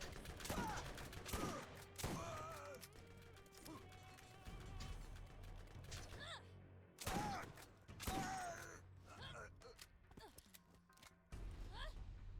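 Rapid bursts of gunfire from the video game Borderlands come in dense volleys, loudest near the start and again around the middle, mixed with shouting voices and clanking mechanical effects.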